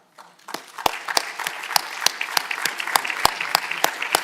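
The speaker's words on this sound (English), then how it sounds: "let's give them all a round of applause." Audience applause at a university museum symposium plenary session, a steady crowd of clapping in a large hall, starting abruptly and holding at moderate volume with distinct sharp claps standing out.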